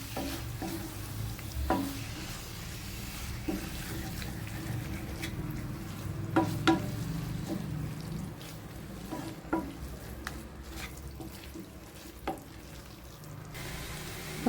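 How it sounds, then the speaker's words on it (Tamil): Mutton liver frying in a pan while being stirred, with a steady sizzle throughout and scattered clinks and scrapes of a spoon against the pan, close and moderately loud. "ஈரலை போட்டு நல்லா கிளறி விட்டுக்கிறோம்."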